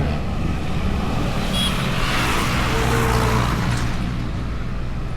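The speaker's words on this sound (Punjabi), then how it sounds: "ਗੱਡੀ ਵਗੈਰਾ ਪਾਸ ਹੋਏਗੀ ਤੇ ਇੰਜਣ ਦੀ ਆਵਾਜ਼ ਤੇ ਹੁੰਦੀ ਹੈ" A car drives past on a sunny road outside, its engine a loud, steady rumble with broadband road noise that holds throughout, close to the microphone, with no talking.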